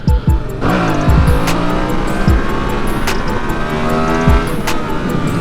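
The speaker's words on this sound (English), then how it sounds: "Call it with one more wheelie of the night." A Yamaha MT-07 motorcycle revs hard and climbs through the gears during a wheelie, loud and close, its engine note rising and falling with a brief chirp near the end.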